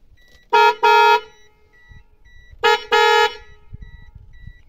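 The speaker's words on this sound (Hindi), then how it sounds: "वो ट्रम्पट हॉर्न हमने इंस्टॉल किए थे" Two paired blasts of a loud, brassy car trumpet horn sound, each a quick double toot, separated by a short pause.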